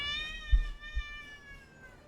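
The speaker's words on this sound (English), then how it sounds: "Hope you liked that really loud meow." A house cat lets out loud meows, a drawn-out wavering call with harmonics that slowly falls in pitch, with a couple of soft thumps nearby early on and no talking.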